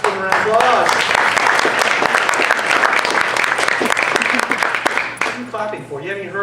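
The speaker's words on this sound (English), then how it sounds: "Let's give them a round of applause." An audience claps loudly and steadily for a live band, a dense sustained wash of applause that thins out near the end as voices start to emerge.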